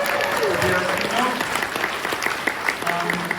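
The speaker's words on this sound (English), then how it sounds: "Let's give a big round of applause for coming out." An audience at a LEGO fan convention's opening ceremonies breaks into lively applause, many hands clapping at close range while a voice talks over the clapping.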